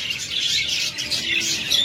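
A pair of rainbow budgerigars keeps up close, busy chirping and twittering in overlapping bursts. The chatter is loud and continuous and no one speaks over it.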